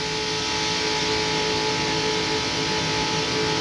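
NASCAR stock cars at the 1999 Daytona 500 roar past in a loud, constant engine wail with crowd and track noise blended in, sustained throughout without a break.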